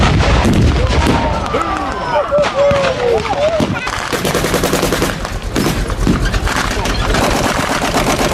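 Gunfire at the Victory Show, a military reenactment event, with loud, continuous volleys of rifle and machine-gun shots crackling outdoors, dense and close, while voices can be heard over the shooting.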